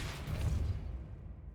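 A Depulso force spell cast in Hogwarts Legacy makes a single muffled whooshing burst with a heavy low rumble that fades over about a second.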